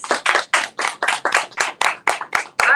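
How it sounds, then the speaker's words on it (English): A single person claps about eleven times in a steady rhythm, sharp and close, with no crowd around. "can we give ourselves another round of applause, please?"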